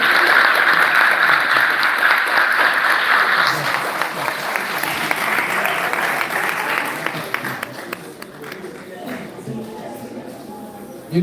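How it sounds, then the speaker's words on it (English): A lecture audience claps in a long, dense burst that holds strong for several seconds, then thins and fades toward the end, with a few scattered claps lingering; faint voices can be heard underneath. "When you clap like that, it encourages me,"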